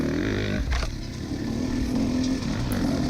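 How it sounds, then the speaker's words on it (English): Enduro motorcycle racing through a woods test, with another bike coming up from behind under a long, hard rev, a loud, rising engine drone that swells and holds close by. "you hear probably the guy he was running from come behind me and just lay on it for a good rev bomb and then get past me"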